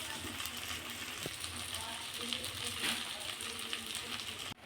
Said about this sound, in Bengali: তাই আলুগুলো এখন ভেজে নেওয়া হচ্ছে।